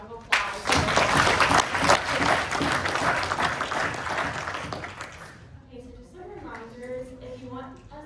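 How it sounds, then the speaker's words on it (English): A student senate meeting breaks into a loud, dense round of applause from the assembled members, sustained for about five seconds before fading into murmured talk. "Can we give ourselves a round of applause?"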